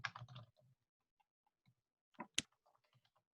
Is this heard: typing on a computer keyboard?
yes